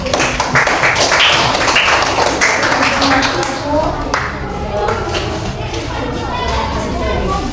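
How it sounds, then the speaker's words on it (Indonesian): A burst of clapping from a group, dense and lively, tapering off over several seconds with voices mixed in. "Oke, beri tepuk tangan."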